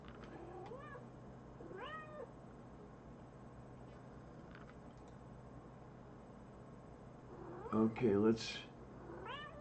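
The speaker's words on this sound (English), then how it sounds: "this is not the time to have the cat climbing all over me" A house cat meows several times indoors, short rising calls near the start, then someone speaks briefly over the quiet room.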